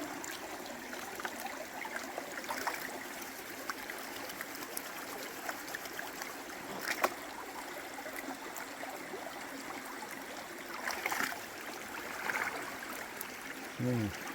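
Gold pan swirling river sediment beside a drop riffle sluice box, a continuous close wash of splashing and trickling water with occasional sharper sloshes and knocks, no talking.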